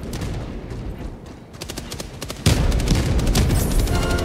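Gunfire in the video game Helldivers 2, dense bursts of shots that ramp up sharply into loud, continuous fusillade-like firing in the second half.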